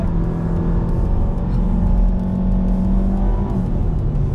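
A Toyota Vios GR-S accelerates hard on a race track, its engine a loud, continuous rising drone with steady tyre and wind roar heard from inside the car.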